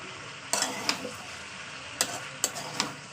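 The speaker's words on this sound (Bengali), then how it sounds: "ঢ্যাঁড়স দিয়ে নেড়ে দিলাম" Okra frying with potato and pointed gourd in a pan over low heat crackles steadily while a spatula scrapes and knocks against the pan in several quick, uneven strokes, close up and without talk.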